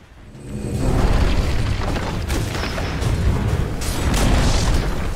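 A tower in the Dota 2 video game collapsing in an explosion, heard as a loud, sustained rumbling boom that swells in and holds for several seconds with debris-like crackle on top.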